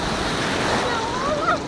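Big sea waves roll and break nearby in a continuous rushing wash of surf, with wind buffeting the microphone throughout the short moment.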